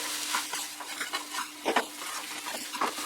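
A vegetable burger patty mixture of vegetables with chopped coriander fries over a raised flame, a continuous close sizzle broken by repeated spatula scrapes and stirring knocks, with no one speaking.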